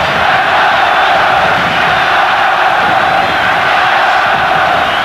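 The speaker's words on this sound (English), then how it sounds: "this crowd certainly partisan and making the right kind of noise" Partisan football crowd fills a stadium at a UEFA Cup final first leg between Casino Salzburg and Inter Milan, a dense, steady roar of massed voices and cheering that holds loud and unbroken throughout.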